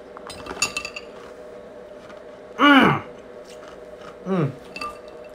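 Ice cubes in water eaten like cereal, with faint clinks and chewing between two loud, brief bursts of hard crunching up close and a few quieter crackles.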